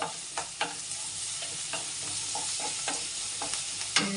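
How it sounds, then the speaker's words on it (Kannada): Sliced onions with a pinch of salt frying in a pan for an egg and dill greens stir-fry, a steady bright sizzle broken by repeated scraping clacks of a spatula stirring, close and loud, with no talking. "ಈರುಳ್ಳಿ ಹಾಕಿ ಸ್ವಲ್ಪ ಉಪ್ಪು ಹಾಕಬೇಕು ಇದೊಂದು ಸ್ವಲ್ಪ ಚೆನ್ನಾಗಿ ಫ್ರೈ ಆಗಬೇಕು"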